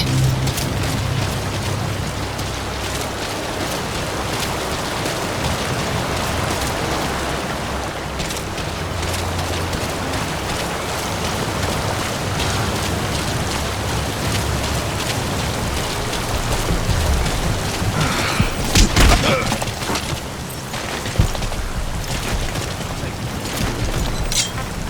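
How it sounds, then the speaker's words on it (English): Rain falls continuously in the video game Metal Gear Solid V: The Phantom Pain, a loud, broad, unbroken wash of downpour, with a few brief thuds and bursts rising near the end. "The sound of rainfall should help to mask your footsteps."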